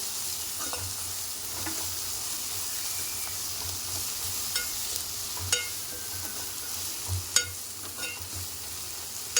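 Spoon stirring cabbage curry in a hot pan, with a soft, steady sizzle under intermittent scraping and clinking strokes, close and fairly quiet, no talking.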